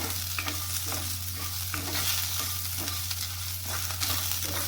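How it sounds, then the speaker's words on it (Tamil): Fennel, cumin and black pepper are stirred into onion masala frying in a pan for crab gravy. A continuous sizzle runs throughout, with repeated soft scraping stirs at close range. "இப்போ நம்ம எடுத்து வச்சுருக்க சோம்பு, சீரகம், மிளகு எல்லாத்தையும் போட்டு ஒரு 2 தடவை மிக்ஸ் பண்ணிட்டு"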